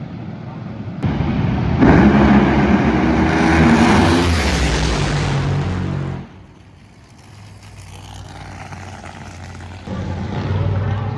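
An NHRA drag racing car engine roars loud and close in a rapid, rattling minigun-like blast, then drops away to a lower rumble with people talking.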